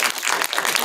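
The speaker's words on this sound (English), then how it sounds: "shall we give them a clap?" A short burst of audience clapping at a film festival opening ceremony in London, steady and fairly loud across under a second.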